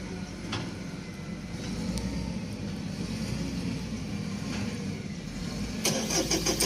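An excavator engine cranks on its starter motor during ignition, a steady, loud mechanical churning that holds throughout and roughens toward the end.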